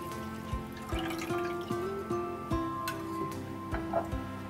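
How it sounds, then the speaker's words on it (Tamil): Strained liquid is poured into a pot of beetroot soup, giving soft splashes and dripping with a series of small distinct plops over a low hum, up close and fairly quiet. "அந்த தண்ணியையும் நான் இதோட சேர்க்குறேன்."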